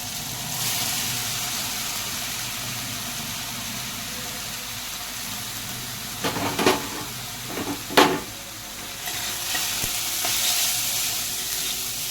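Cauliflower and green chillies sizzle and fry steadily in hot oil, with a few louder stirring clatters midway and no talking.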